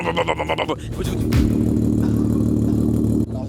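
A Dodge car engine settles into a deep, steady idle rumble after a short burst of revving and clatter, close and continuous.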